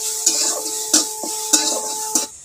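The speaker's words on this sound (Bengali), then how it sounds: "একটু নেড়ে নেব।" Onion and curry leaves stirred in a little oil: a steady frying sizzle with four evenly spaced scraping strokes of a spoon against the pan, close and fairly loud, with a faint steady hum underneath.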